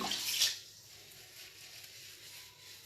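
Cold tap water running briefly for rinsing the face, a close splashing burst at the start that quickly settles into a faint, steady trickle.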